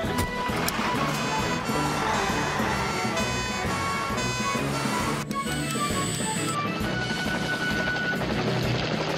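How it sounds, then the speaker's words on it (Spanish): Cartoon helicopter in an animated firefighter rescue show, a loud steady rotor-and-engine drone running throughout with electronic beeping tones and soundtrack layered over it. "Don irá en el helicóptero."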